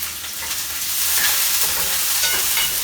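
Vegetables for Thai red curry sautéed and stirred in a pot, a steady close hiss of frying with scraping stir sounds that swells slightly partway through, no talking.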